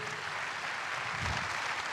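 Applause from the audience at an innovation trophy award ceremony at a French business trade fair, a steady dense wash of clapping that holds throughout the whole stretch at moderate level.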